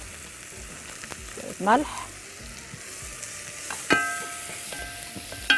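Onion fries in very hot ghee with a continuous close sizzle. A voice speaks over it briefly and a few clinks of a utensil break in.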